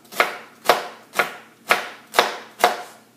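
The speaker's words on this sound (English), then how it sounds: "Cut them really, really small, like little pieces of celery" Knife cutting collard green stems into tiny pieces: six crisp, evenly spaced chops, close and clear, with nothing else heard.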